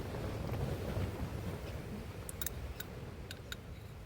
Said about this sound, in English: You may hear the wind rattling the tent